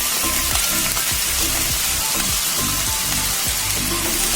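Cut pieces of elephant foot yam sizzle loudly and steadily in hot oil, a dense continuous crackle and hiss close up with no talking.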